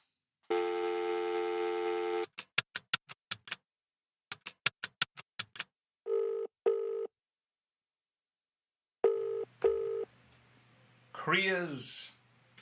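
Inside a red phone box, a telephone gives a long tone and then a series of rapid dialling clicks and beeps in short bursts, followed by ringing tones and voices.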